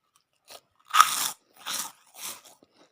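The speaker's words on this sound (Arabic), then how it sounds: "سامعين صوت القرمشه؟" Ketchup-flavoured potato chips are bitten and chewed close to the ear: one sharp loud crunch followed by two softer crunchy chews, each separated by short silences.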